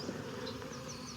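Honeybees, including drones, buzz in and around a beehive being split into new colonies, a dense, continuous close drone of many wings.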